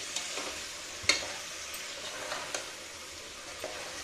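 Chopped potatoes fry in a spice masala, giving a steady soft sizzle with a few sharp scraping clicks from stirring, close by and with no voices.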